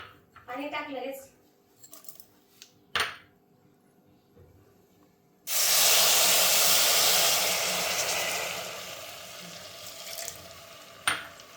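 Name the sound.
sugar and water hissing in a hot kadhai for syrup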